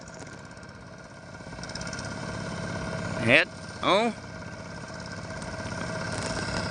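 A farm tractor engine runs with a steady, mid-pitched droning hum while it gives off smoke in the fields. Two short, loud vocal shouts break in midway over the engine noise.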